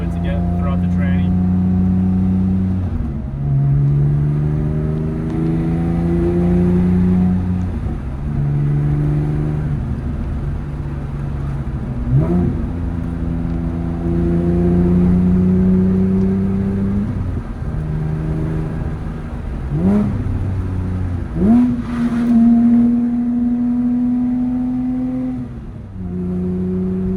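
A Porsche 997 GT3 drives on cold new transmission fluid, its engine revving up through the gears in repeated rising sweeps with brief drops at each shift, loud and continuous throughout.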